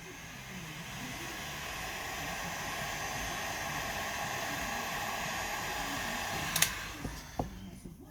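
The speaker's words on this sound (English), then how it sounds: "I'll just give it one more blast with the air gun" A heat gun blowing a steady rushing hiss of hot air over resin to pop bubbles, continuous and fairly close for several seconds, ending in a few sharp clicks and knocks.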